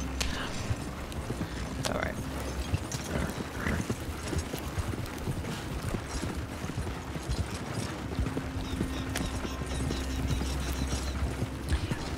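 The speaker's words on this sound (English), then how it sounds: "I always go quite slow with the wagons, just having the horse trot along instead of cantering." Horse trotting while pulling a wagon in Red Dead Redemption 2, steady rhythmic clip-clop of hooves with rattling, creaking wagon mechanics underneath and a low rumble throughout.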